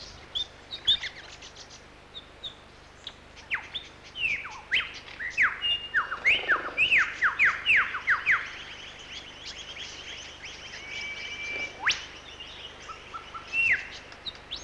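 Bright, rapid tree creeper calls and chirps burst out in clusters, busiest in the middle stretch, with scattered single notes before and after over a quiet outdoor background.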